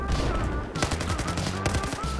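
Battlefield 4 gunfire crackles in dense rapid bursts with sharp repeated shots, loud and close, layered with game noise and little talk.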